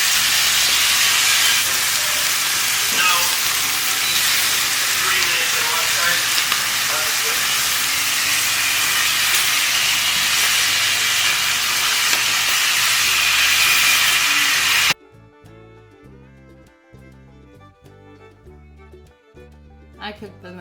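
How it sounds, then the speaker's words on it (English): A pot of water boiling for penne pasta gives a loud, steady hissing roil for most of the stretch, then cuts off abruptly, leaving quieter room sound with soft talk and light clatter. "you're gonna wanna boil some of your choice of favorite pasta"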